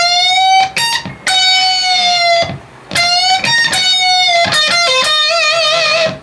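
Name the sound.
electric guitar riff from a song with bends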